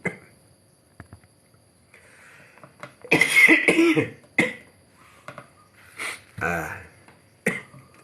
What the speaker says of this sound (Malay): Sedap batuk